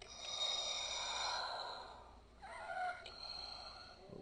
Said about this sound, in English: You get that more raspy, difficulty breathing type of sound effect.